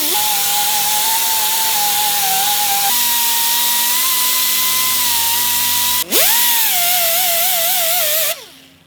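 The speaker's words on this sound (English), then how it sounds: "I'm just taking a grinder to it until the thing fits" A grinder works a billet shift knob on a shifter for a Subaru EZ30R-powered vintage Porsche 911, giving a loud, steady high-pitched whine whose pitch dips and wavers as load changes, then stops abruptly near the end.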